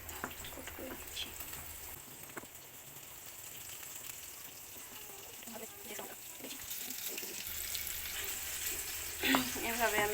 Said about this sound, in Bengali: এভাবে আমি পর্যায়ক্রমে সবগুলো চিকেন কোট করে তেলে ভেজে নেব